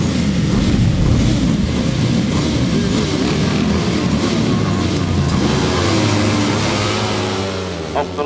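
Grasstrack motorcycles at the 2005 British Masters roar off the start line together, a loud, dense engine blare with rising revs that fades slightly as the machines head down the straight.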